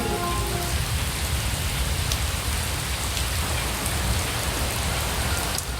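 Heavy rain pours in the Himalayas near old stone towers, a loud dense hiss of drops hitting surfaces that continues unbroken throughout, with no voices.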